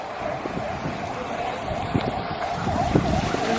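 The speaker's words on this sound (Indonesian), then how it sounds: "Ini adalah mobil-mobil yang antri ingin masuk kapal guys." Cars idling and moving in a queue at a lakeside ferry port, waiting to board a boat to Samosir Island, with steady engine rumble under wind and open-air background noise and a few brief knocks.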